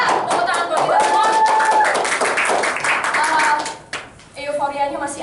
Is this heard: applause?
yes